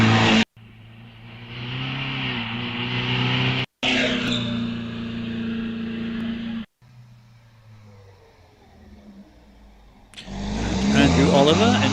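An AC 1690 racing car climbs the Wiscombe Park hillclimb, its engine droning and revving with loud, steady harmonic tones that cut off abruptly twice before rising again, while a commentator talks over it.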